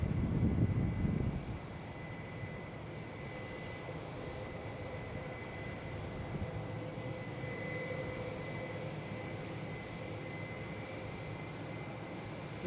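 Japan Airlines Boeing 787-9 jet from Tokyo at Boston Logan, a distant steady engine hum with a faint whine, after a brief louder rumble at the start; no talking.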